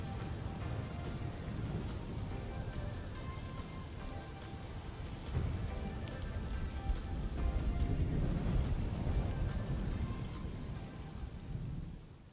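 Steady rain with rolling thunder in the Assetto Corsa racing game running the SOL weather mod, a dense continuous downpour with deep rumbles swelling louder partway through, no voices.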